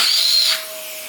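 A Wessel Werk TK 286 STB305-3 turbo nozzle on a strong running vacuum cleaner gives a steady airy whine and hiss, which drops to a lower, quieter rushing tone about halfway through.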